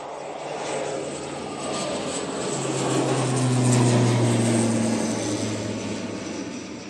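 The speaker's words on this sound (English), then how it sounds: "As soon as that prop starts going, which it is." Ryanair propeller airliner taking off at Manchester Airport, a loud droning roar with a deep rising engine tone that swells to a peak midway and then eases slightly, heard from a distance outdoors.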